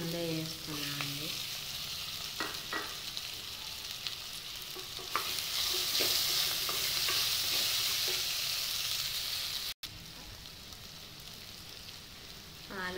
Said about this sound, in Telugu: ఆలుగడ్డలు కొంచెం వేగినాయి కదండి